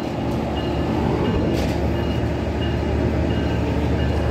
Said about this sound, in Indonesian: ada kereta lewat sih